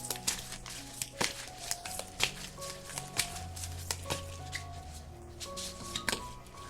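Tarot cards being handled and shuffled at close range, a run of soft papery slaps, flicks and taps that come every half second or so over faint background tones, with no voices.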